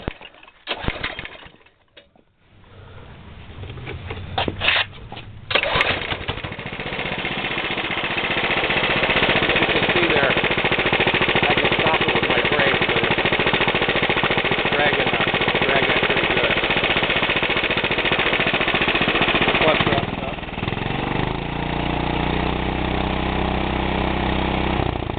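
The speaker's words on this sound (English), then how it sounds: "This motor, I read where the clones like to be choked." A small clone engine on a go-kart runs steadily at close range, a loud continuous mechanical drone after a few sputtering starts, then drops to a lower, rougher idle near the end.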